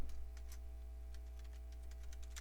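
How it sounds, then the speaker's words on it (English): Fast, light keystrokes on a computer keyboard, close but quiet, in an even patter against a steady electrical hum. "I'm going to type in Windows Whistler"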